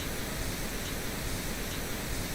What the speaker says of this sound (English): slowly bring it down in terms of pink noise.